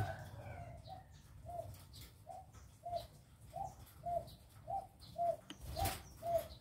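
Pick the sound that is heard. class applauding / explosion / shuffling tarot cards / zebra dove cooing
zebra dove cooing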